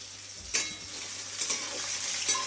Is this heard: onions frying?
yes